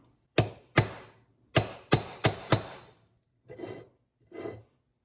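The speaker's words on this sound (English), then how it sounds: "found my blunt chisel. We'll try to use that to stake it again." Hammer striking a blunt chisel to stake metal on a 1955 Ford Thunderbird Y-block fuel pump: six sharp, ringing blows in an uneven rhythm, followed by two softer, duller taps.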